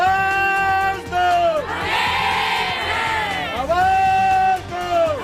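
A crowd of ASHA health workers at a hospital compound in Pataudi, Haryana chants protest slogans in loud, rhythmic unison, a single shouted voice rising between the collective calls.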